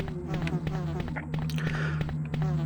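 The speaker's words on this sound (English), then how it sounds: "we got bees. We got the bees." Bees buzzing in Resident Evil (BioRand randomizer), a steady drone of insect wings running throughout, close and continuous with small swells.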